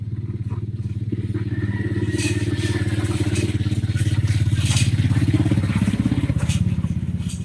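A motorcycle passes along the roadside, its engine a loud, rough, pulsing rumble that swells toward the middle and stays close, with some clatter over it.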